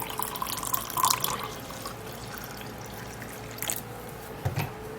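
Warm water runs and pours steadily into a glass close by, with a soft splash midway and a faint clink near the end; no one speaks.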